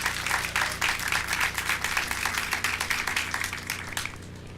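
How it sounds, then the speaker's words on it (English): Crowd applause at an outdoor high school graduation ceremony under a tent, honoring teachers: dense, steady clapping from many hands sustained throughout, fairly loud and even. "give them a round of applause"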